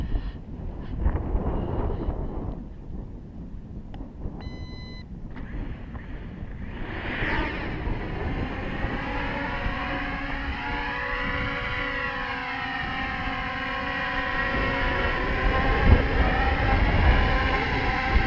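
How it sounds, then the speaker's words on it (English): Strong outdoor wind buffets the microphone in a constant low rumbling roar, with a rising, wavering electric whine joining partway through and holding under the gusts. "There's just a pretty good wind coming from this direction."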